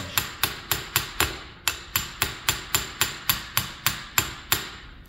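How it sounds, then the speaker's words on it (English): A hammer taps a pin into a Volvo Penta DPS shift actuator during a seal change, about fifteen sharp metallic strikes in a steady, even rhythm, close and loud with no talking. "I'm gonna go ahead and start tapping that pin in further."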